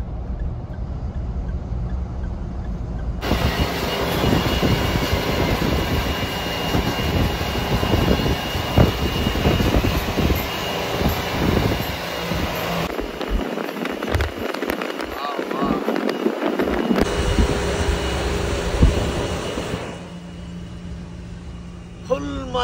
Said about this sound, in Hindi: ट्रैक्टर ठीक स्पीड चल रहा है मेरे ख्याल से 58 की स्पीड पर ट्रैक्टर चल रहा है।